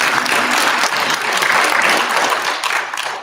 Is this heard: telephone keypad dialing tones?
no